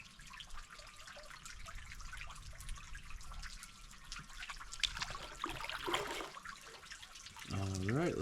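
A small stream of water trickles and drips over rocks near Lake Malone, Kentucky, a quiet, close patter, with a voice speaking briefly near the end.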